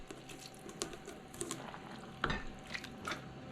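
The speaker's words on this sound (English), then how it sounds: "the last thing I'm gonna add is that number 10 can of mushrooms" Canned mushrooms from a number 10 can tumble into a big pot of meat sauce for bulk meal prep, giving soft wet plops and squishy stirring scrapes in a few irregular bursts, fairly faint, with no talking.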